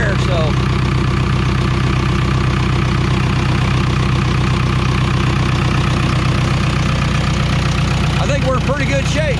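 A Case 450C bulldozer diesel engine idles steadily after an oil change, a close, continuous low rumble with some knocking texture, and a voice speaks briefly over it near the end.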